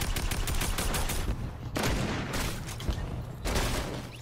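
Loud, rapid gunfire from a gun in the Roblox game Arsenal, firing in continuous bursts with two short pauses between volleys.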